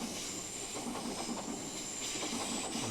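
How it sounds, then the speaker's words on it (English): A Southern passenger train passes on the line to Victoria near Mitcham Junction, a steady, fairly distant rumble with rail hiss and faint wheel clatter throughout. "there's a southern train on its way to Victoria, next stop, Mitcham Junction"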